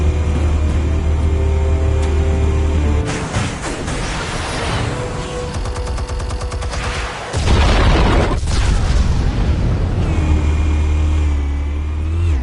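Explosives detonate in the Batman: The Telltale Series video game, loud booming blasts that break in around three seconds and again near seven seconds, with rumbling low-end swells and debris noise between them.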